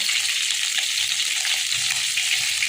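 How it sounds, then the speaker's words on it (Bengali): Food for lunch frying in a pan gives a continuous, loud, hissing sizzle that holds steady throughout, with faint stirring underneath. "আমি রান্নাটা শুরু করলাম"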